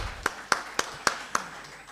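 An audience at a public lecture claps along in a finger clapping exercise, five soft, evenly spaced claps in steady rhythm, fairly faint and distant.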